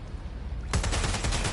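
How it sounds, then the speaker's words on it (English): A rapid burst of automatic gunfire erupts in Watch Dogs: Legion, a steady rattling string of shots starting abruptly and continuing at close, fairly loud range. "They're shooting at us!"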